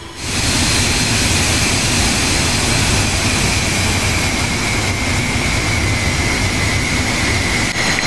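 Steady, loud jet engine roar from a military fighter idling before takeoff in the DCS World flight simulator, a continuous broadband rumble with a high whine running unbroken throughout, no voices.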